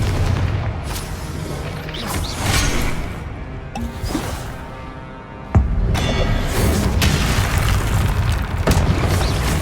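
Confringo blasting spell in the Hogwarts Legacy video game: heavy booming impacts and bursts amid a dense, loud battle soundscape, with one sharp blast landing midway.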